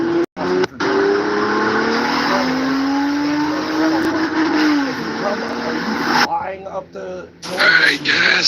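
A car engine runs after its timing has been reset, a loud, steady idle with a rising rev tone, then cutting out near the end as someone talks nearby.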